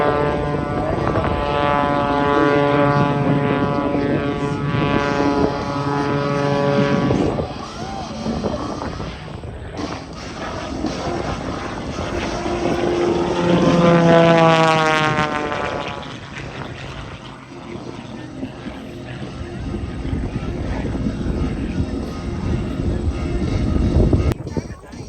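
A propeller airplane at an airshow drones overhead, its engine pitch sweeping up and down as it passes and maneuvers, loud and sustained throughout.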